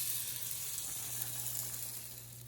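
Egg-coated slices of French toast bread sizzle steadily on a greased pan, a soft, even hiss that fades slightly toward the end, with no voices.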